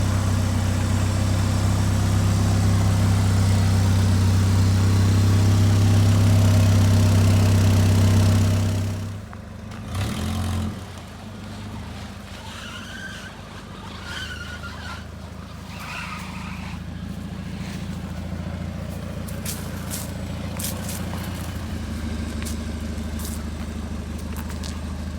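A Pontiac Fiero's engine runs steadily, loud and close, with a heavy low drone for the first several seconds, then dropping to a lower, rougher running hum with faint scattered clatter.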